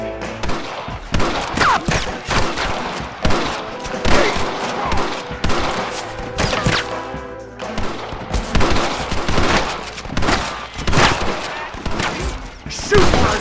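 Rapid volleys of gunfire in Red Dead Redemption, dense cracks and booms repeating throughout a chaotic Western shootout, loud and close with occasional shouting mixed in.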